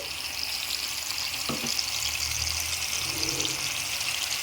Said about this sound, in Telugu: తర్వాత చింతపండు రసాన్ని వేసుకోవాలి అలాగే ముందుగా మనం ప్రిపేర్ చేసుకున్న ఆవపిండిని వేసుకోవాలి